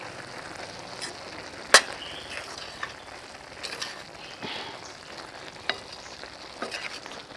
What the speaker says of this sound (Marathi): एकदा ढवळून घेऊ.